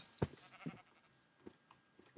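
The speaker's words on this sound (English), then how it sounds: "And that's why I'm killing the sheep." Sheep in the Minecraft video game give a few short, sharp bleats, spaced irregularly and fairly faint against a quiet background.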